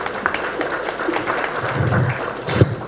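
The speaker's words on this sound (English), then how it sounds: "A round of applause for him, please." Applause for a speaker at an agribusiness breakfast summit, scattered clapping with some low rumble and a louder burst near the end.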